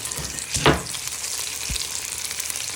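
Bacon and sausages sizzle in a pan while being stirred, with a steady crackling fry and a brief scraping stir near the start and a soft knock later, close and moderately loud without talk.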